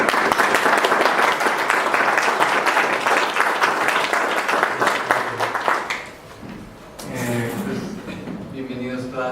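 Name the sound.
audience applause for a lecturer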